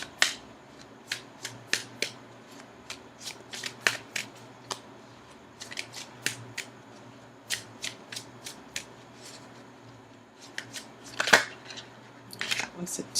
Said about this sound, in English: Now I'm going to go ahead and shuffle for an outcome card.